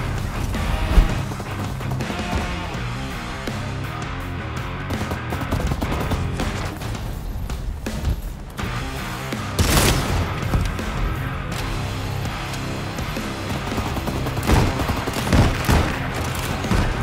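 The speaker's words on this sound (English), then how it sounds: "I heard some shots here, directly in front of me." Gunshots in the Vampire: The Masquerade - Bloodhunt game, scattered cracks and bursts amid busy game music and ambience, with one sharper volley near the middle.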